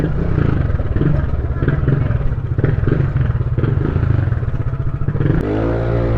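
A motorcycle engine, fitted with Brembo brake calipers, runs loud and close with a continuous throaty rumble and rising revs, then settles toward a steadier idle near the end.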